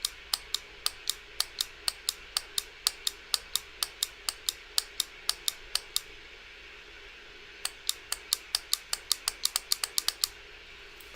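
A Doc Fisher folding knife's detent gives off a long run of sharp, crisp clicks in a quick, even rhythm, briefly pausing midway before resuming, close and clear against a quiet background.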